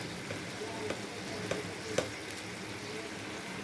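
Ground onion, ginger, cumin and garlic fry in a pan with a faint, steady sizzle, with a few soft stirring clicks.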